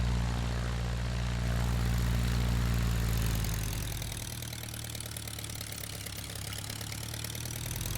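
A Tiger Moth biplane's propeller engine taxis onto a runway in Microsoft Flight Simulator, with a loud, steady low drone that eases slightly in pitch and level partway through, and no voices.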